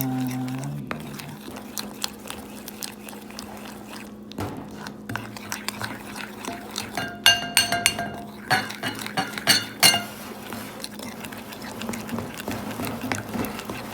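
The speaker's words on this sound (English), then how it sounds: "I got the glaze stirred up pretty good here" A whisk or spoon stirring orange glaze for scones in a bowl in a home kitchen, with soft scraping and a run of quick clinks against the bowl that grows busier in the second half, close up and moderately quiet.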